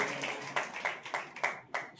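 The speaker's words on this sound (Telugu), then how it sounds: "చప్పట్లు కొట్టి దేవుని కనపరచుదాం" Steady rhythmic hand clapping at a church fasting prayer meeting at night, about six sharp claps spaced evenly at a moderate pace, fairly close and clear over a quiet room.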